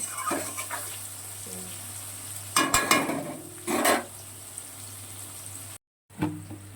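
Onion and green chili frying in a pan for chowmein, with a low background sizzle and a few bursts of stirring and scraping, one brief dropout near the end, with no voices.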